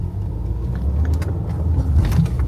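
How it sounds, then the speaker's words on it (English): Continuous low rumble of car traffic on the approach roads at Gatwick airport, heard from inside a moving vehicle, with steady engine and road noise and a few faint higher clatters. "All the traffic coming in out on the left hand side."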